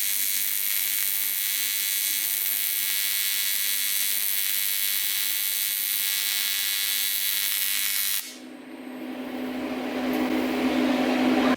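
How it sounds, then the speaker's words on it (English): A welder fully welds a blow-off valve pipe on a twin-turbo LS-swapped Ford Ranger, giving a steady, loud, continuous hiss and crackle for about eight seconds before cutting off, followed by quieter shop hum. "So now I'll fully weld it."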